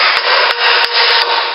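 Oxidized aluminum on a Bowsher subframe being sanded, a loud, steady rasping abrasive hiss with slight rhythmic surges from back-and-forth strokes, close up and without talk.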